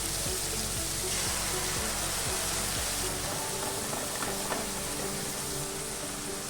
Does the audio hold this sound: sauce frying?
yes